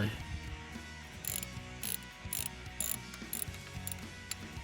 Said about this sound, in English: You'll need a 10mm socket.